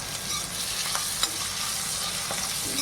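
Carrot and bitter gourd hiss and crackle steadily in a hot pan, with occasional sharper pops and stirring scrapes, close and continuous, with no talking.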